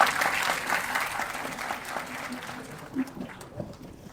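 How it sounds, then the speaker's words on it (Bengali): An audience at a legal talk gives a round of applause, a dense patter of clapping that starts strong and tapers off over about four seconds, with faint voices underneath. "সকলে একটা করতালি।"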